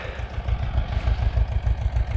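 An Ursus C330 tractor engine chugs in a steady, rapid low rhythm while working a rain-soaked, deeply ploughed muddy field, close and fairly loud with no talk.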